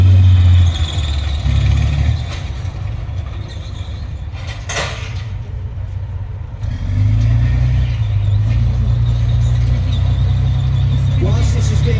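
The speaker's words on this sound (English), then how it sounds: "now we're going to see the Warrior infantry fighting vehicle snuggle and manoeuvre into a better position" A British Army Warrior infantry fighting vehicle manoeuvres at a tank fest. Its heavy diesel engine rumbles loudly and steadily close by, swelling and dipping as it repositions, with track squeals and clanks.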